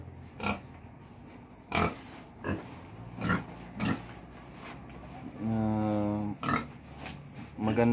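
Pigs kept on a mountain farm give repeated short grunts and squeals, then a longer, sustained squeal, at a moderate distance outdoors.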